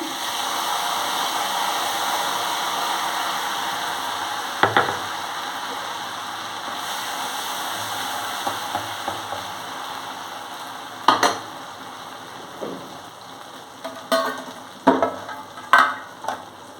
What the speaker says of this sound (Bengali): মাছটা ভাজা হয়ে গেছে এবার আমি এর মধ্যে কালো জিরে দিয়ে দিচ্ছি দিচ্ছি এই বাটা মশলাটা